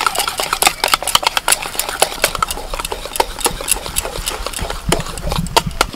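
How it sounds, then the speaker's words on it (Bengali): Semolina and yogurt batter with Eno stirred in is whisked briskly in a bowl, making rapid, uneven clicking and tapping close by that continues the whole time with no talking. "পুরো 1 প্যাকেট আমি ইনো দিলাম, ভালো করে ফেটিয়ে নেব।"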